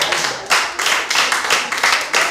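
A youth group at a Sunday church service claps, producing a steady run of hand claps that swells in several waves of applause, close and fairly loud.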